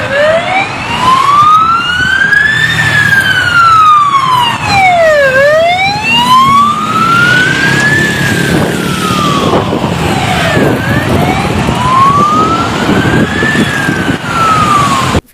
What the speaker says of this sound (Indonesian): This is how Malaysian give way to ambulance.